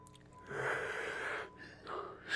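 A person yawns close to the microphone, a drawn-out breathy, wheezing exhale that rises, eases off, then swells again briefly.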